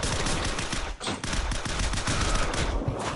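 Rapid automatic gunfire in the zombie shooter SAS Zombie Assault 3 rattles almost continuously, loud and dense, with a short break near one second before the shooting resumes.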